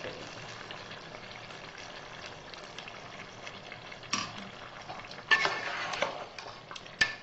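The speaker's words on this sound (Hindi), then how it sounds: "अब ये दही जो हमने फेंट के रखी थी, ये एक पाव ये हम इसमें ऐड करेंगे।" Whisked yogurt, about a quarter kilo, stirred into sizzling biryani masala in a pot, with a soft steady frying hiss and a few louder scrapes and clinks of a spoon against the pan.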